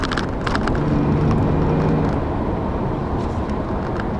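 A 2012 Infiniti G37 Journey driving on a road at night, a steady loud drone of engine and tire-on-road rumble with a low engine hum early on, continuous throughout and with no talk.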